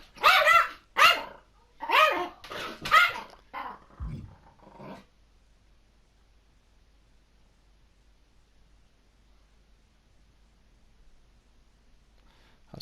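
Indoor dog letting out a quick run of sharp, loud barks mixed with growls, about half a dozen bursts over a few seconds, followed by near silence.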